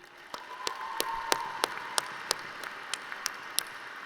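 Light audience applause at the 2017 Wharton undergraduate graduation ceremony, a soft steady patter of many hands with a few sharper, distinct claps standing out, fairly distant and continuous throughout.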